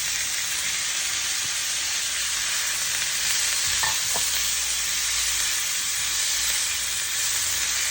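Bitter gourd tipped into a pan of hot sizzling onions, giving a continuous close fry hiss with a brief clatter of pieces landing midway, no voices.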